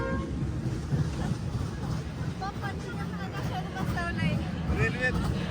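A train rumbles past a fair at Karjat with a low, steady roar, while several people talk and call out nearby over the noise.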